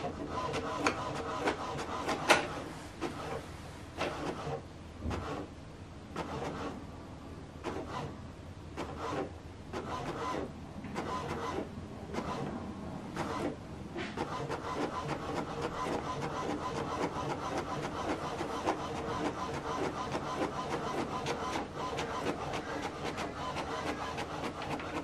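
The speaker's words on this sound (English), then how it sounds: "Select continue so that it will print out the second part." HP DeskJet 3775e inkjet printer running a print job, a steady mechanical whir and rolling feed noise with intermittent clicks and shuffles early on, settling into a continuous, fairly close hum.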